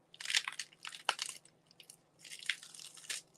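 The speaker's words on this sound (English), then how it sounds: "But listen to this crunch." Fresh, crisp lettuce crunches in a series of sharp, close bursts with short pauses between them, and no one speaks.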